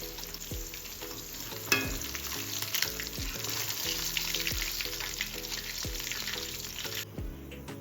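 Fish pieces frying in oil for a home-style fish fry, a dense, continuous crackling sizzle up close, punctuated by regular low clunks and scraping of a utensil in the pan.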